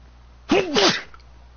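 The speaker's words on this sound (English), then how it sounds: "It's like I'm trying to fight the sneeze to come out" A single loud, close human sneeze bursts out sharply after a quiet moment.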